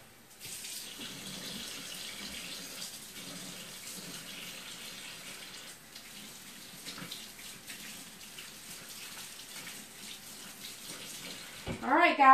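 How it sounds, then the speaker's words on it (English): Hands washed under a running kitchen sink faucet, a steady close rush of water lasting several seconds with slight changes as the hands move through the stream, ending in a brief louder splash or clatter. "let me wash my hands."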